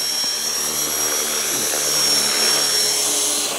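An RC model airplane engine, a FunCub on an icy cold day, whines continuously at close range with a steady high-pitched buzz and slight pitch shifts throughout.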